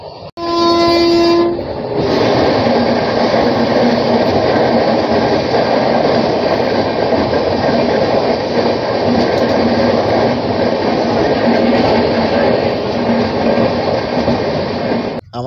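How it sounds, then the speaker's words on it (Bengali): The Chennai Mail express runs at speed, opening with a short, loud horn blast that gives way to a continuous, roaring rumble of wheels and carriages, heard from close by with no talk. "ট্রেন কিন্তু ছুটে চলেছে ট্রেনের গতিবেগ মেনটেন করে।"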